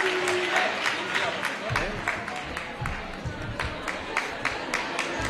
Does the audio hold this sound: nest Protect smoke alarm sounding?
no